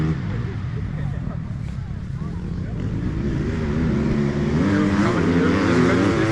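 Side-by-side off-road vehicles race past with a loud, continuous engine roar that rises and revs higher toward the end, while a voice talks over it.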